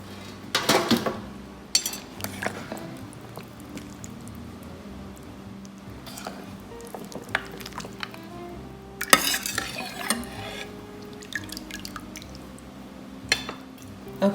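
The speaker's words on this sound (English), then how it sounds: "first we're going to remove the bones and the vegetables" Bones and vegetables are lifted out of bone broth in a crock pot: irregular clinks and scrapes of utensils against the pot with wet dripping and sloshing between them, fairly close.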